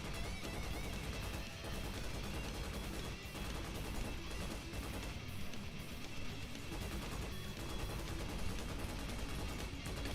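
Machine gun fire from an emplacement in the Starship Troopers: Extermination game, a dense, continuous chatter of rapid shots mixed with crashes, quiet and unbroken for the whole stretch.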